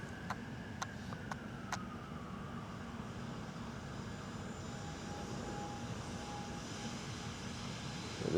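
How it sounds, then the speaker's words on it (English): Airplane passing high over London, a faint distant steady engine drone beneath city ambience, with a few brief high clicks early on and no voices. "There's a plane right above us."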